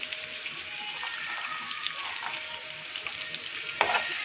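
Ingredients for paneer masala roast in a pan with a steady, close sizzle. Faint stirring scrapes run through it, and a sharp clink sounds near the end.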